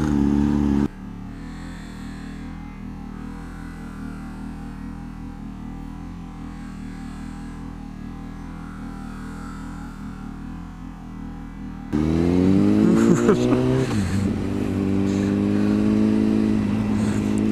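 A 125cc motorbike ridden into a car park: a low engine drone runs for several seconds, then the bike revs up sharply close by with rising and falling pitch.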